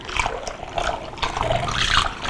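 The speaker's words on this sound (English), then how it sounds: "grab my handy dandy Aero latte, which I love, and just mix this up" A handheld Aerolatte frother whisks a raw vegan Asian marinade for asparagus. Close, irregular bursts of liquid swishing and splashing churn for a couple of seconds.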